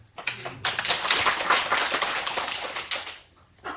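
Church congregation clapping hard together, a dense burst of applause that swells and holds for a few seconds before tapering off, no talk over it.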